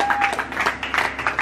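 A small group applauds Anne-Sophie after her first session, a short, close burst of scattered hand claps lasting about a second and a half.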